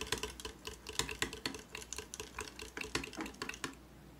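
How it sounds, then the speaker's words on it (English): A small whisk taken from a broken handheld mixer clicks rapidly against a bowl while mixing ingredients, making a steady run of close, sharp tapping strokes that stop near the end. "My little whisk from a handheld mixer that got broken"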